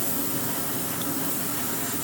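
A spray can primes a miniature model with a steady, close aerosol hiss that runs unbroken and loud for about two seconds, with no voices over it.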